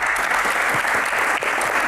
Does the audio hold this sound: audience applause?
yes